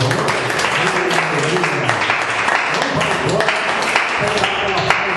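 Steady applause from a large crowd at a church service fills the space, dense and continuous, with a voice faintly audible underneath.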